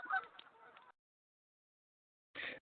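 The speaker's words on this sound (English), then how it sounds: "sorry about the geese" Geese honk loudly in two bursts, a longer clustered run of calls followed by a pause and then a shorter burst, heard close by with no talking over them.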